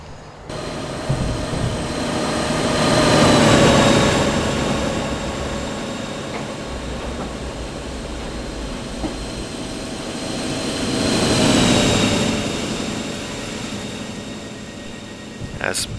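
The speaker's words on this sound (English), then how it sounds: "which will enable us to hear the train better and hear the air rushing past as we move along" An electric Class 319 train in Train Simulator 2015 runs from Bedford with a steady rumble and motor whine that swells louder twice, rushing air beneath it.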